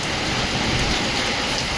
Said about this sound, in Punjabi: ਇਧਰ ਮੀਂਹ ਪੈ ਰਿਹਾ ਜੀ ਪੂਰਾ ਜ਼ੋਰ ਦਾ